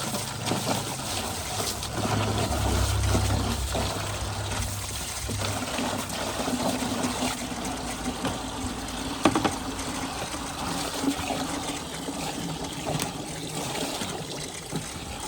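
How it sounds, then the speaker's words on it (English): Steady rushing pour of water running into a bucket, continuous and close, with a faint low hum underneath and no talking, during exterior car detailing. "fill it up with water"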